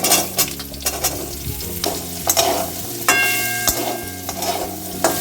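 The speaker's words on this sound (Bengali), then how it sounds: "এই পনিরের তেলেতে আলুটা ভেজে নেব।" Oil left from frying paneer sizzles steadily as potatoes fry, with scraping and stirring knocks from a utensil in the pan, close up and fairly loud.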